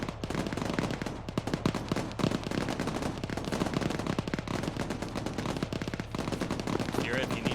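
Machine gun fire in the military shooter Arma 3, sustained rapid bursts of automatic gunfire with dense crackling reports, continuous and loud across the whole stretch.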